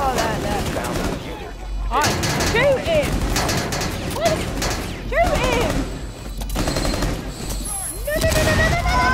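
Rapid gunfire bursts from the Rainbow Six Siege video game crackle throughout, mixed with game effects and excited voices talking over the action.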